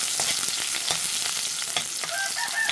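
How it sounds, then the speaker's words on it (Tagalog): Fresh vegetables sizzle and crackle in a hot pan while being stir-fried and tossed, a steady dense frying hiss with scraping stirs throughout, close and fairly loud, no talking. "So ayan guys, magmikos-mikos na ta guys sa atong gulay nga presko kaayo."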